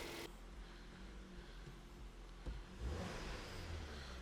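A Ford, Mazda or Volvo car with a clutch position control fault idles steadily after starting, a low, even engine hum heard close with a slight rise and a faint clunk partway through.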